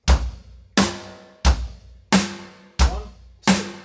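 A simple two-beat rock pattern on a drum kit alternates low kick hits and sharp snare cracks, six strokes in a steady even rhythm, loud and close with no talking.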